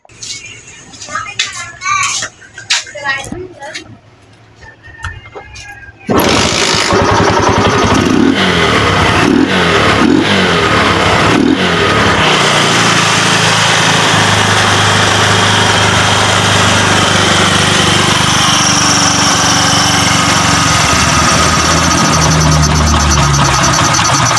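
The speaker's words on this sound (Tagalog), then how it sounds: "try nating paandarin kung magiging maganda na yung andar ng motor na to" A few faint clicks and scrapes, then a motorcycle engine kicks into life and keeps running loudly, idling with small rises in revs.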